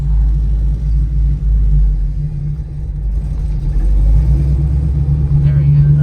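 A manual stick-shift car's engine rumbles and pulls as the clutch is let out, a steady loud low drone heard from inside the car, with faint talk beneath it.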